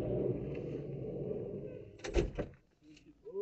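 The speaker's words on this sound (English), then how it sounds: "Open the door, boys." Door being opened by police officers, a dull thunk and rattle heard over steady background rumble and murmur, followed by a brief quieter pause.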